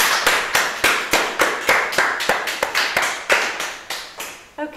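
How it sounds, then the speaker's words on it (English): An audience claps for a performer at a spoken word poetry and music night, sparse and near, with distinct individual hand claps in a loose, uneven rhythm that thin out toward the end. "I think we should give her another clap"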